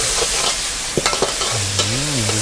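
Garlic sizzles and is stirred in a hot wok for egg fried rice at a Thai street stall, with steady frying hiss and a few sharp scraping clanks of the spatula.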